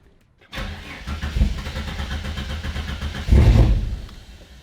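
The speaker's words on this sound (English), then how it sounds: "It fired. It didn't stay running though." A turbocharged Ford Fairlane on a Haltech ECU cranks and fires on its first start-up, a loud close engine that catches, runs roughly, then surges louder before fading as it fails to keep idling.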